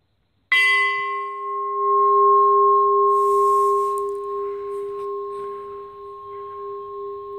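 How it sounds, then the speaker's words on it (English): A newly cast bell is struck once and rings out with a clear, sustained tone that slowly decays over several seconds. "So let's hear it ring for the first time."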